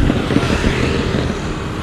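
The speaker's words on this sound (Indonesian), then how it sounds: "itu mobil apa, men? Knalpotnya apa berisik banget" A car with a loud, noisy exhaust rolls past near a bridge on a reclaimed island, giving a steady rumbling engine roar that stays close and fairly loud throughout, with no speech over it.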